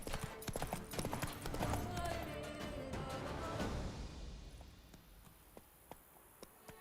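The horse Roach's hooves clip-clopping in The Witcher 3 video game, a quick run of hoofbeats that slows and fades over a few seconds, with someone talking over it before it tails off to a few faint taps.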